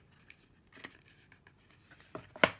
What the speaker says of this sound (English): Just clip it right up next to the corner of the box.